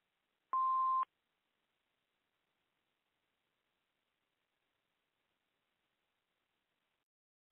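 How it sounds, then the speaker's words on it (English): A single electronic answering machine beep, a steady mid-pitched tone lasting about half a second, sounds once near the start and is followed by silence. "Please leave your name and phone number after the beep."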